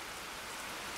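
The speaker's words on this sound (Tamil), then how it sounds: "மழை பெய்யுது ப்ரோ" Rain falling in the video game Minecraft, a steady faint hiss of drops on surfaces with no breaks and no voices.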